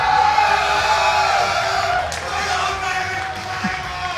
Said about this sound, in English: Can you guys cheer for some Halo?